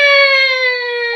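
Siren sound effect played during a hockey talk show, a loud steady electronic tone with stacked harmonics, brief and alone, without voices over it.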